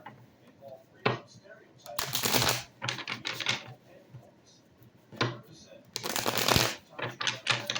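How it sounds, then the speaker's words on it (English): Tarot cards are shuffled up close in two loud riffling bursts separated by softer taps and card handling, with a faint hint of speech in the background. "Let's cut the cards and reshuffle."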